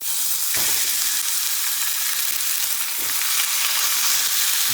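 Hamburger meat sizzles loudly in a hot oiled pan, a dense, steady hissing fry right up close that holds for the whole stretch, with a couple of faint low thumps and no talk.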